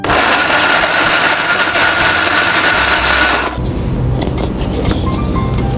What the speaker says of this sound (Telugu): మిక్సీ పట్టేసుకుందాం.